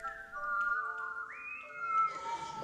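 A lone person whistles a thin, wavering melody with a few sliding pitch changes, fairly soft and close, with no talking.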